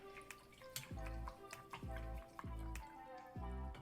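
A paintbrush is rinsed in a cup of water, giving four close, wet sloshing pulses with dripping in between, evenly spaced and fairly quiet.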